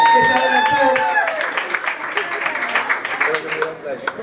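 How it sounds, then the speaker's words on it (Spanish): A live audience at a cantina show breaks into applause, a burst of many hands clapping that rises over fading speech and then thins into scattered claps. "¡Un aplauso para esa idea!"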